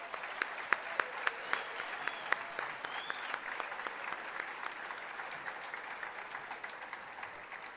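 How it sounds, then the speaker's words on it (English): Applause from the audience at a Year 12 graduation mass and ceremony, a steady wash of many hands clapping in a large room, moderately distant and fairly soft, with a few sharper individual claps standing out early on. "Let's give them all another round of applause."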